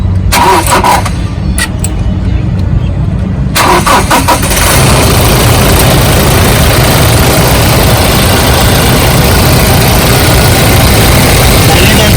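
A 2017 Toyota Innova Crysta 2.4 V manual starts with a few sharp cranking bursts, then runs loud and close in a steady, uninterrupted engine roar.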